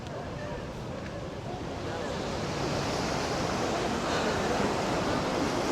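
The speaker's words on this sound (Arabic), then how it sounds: "صوت البحر والأمواج كافية" Sea waves roll along the Casablanca corniche, a continuous broad wash of surf with wind, gradually growing slightly louder.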